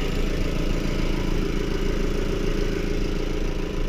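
A 2015 Jeep Renegade Trailhawk with a 2.4-litre MultiAir four-cylinder engine idles steadily and close by, a constant low rumble with no speech.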